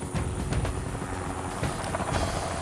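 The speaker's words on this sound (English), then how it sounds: "What the helicopter will do, will come in, he'll have a quick circuit to be sure it's a safe LS." A military helicopter approaches a jungle landing site, its rotor chop loud and close, a steady rapid thudding beat under a high whine, with no voices heard.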